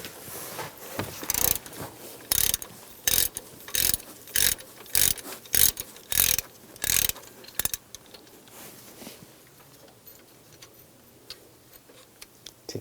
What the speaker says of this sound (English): Using a 15mm socket,